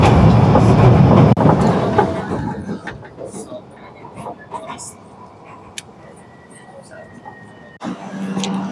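A metro train in Tabriz, Iran, rumbling loudly at first then fading into quieter station ambience with scattered clicks, before a brief rise of train noise at the end; people talk nearby.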